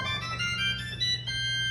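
A single pipe organ stop sounds a sustained chord, bright and reedy with a low steady tone beneath, fairly quiet and held throughout.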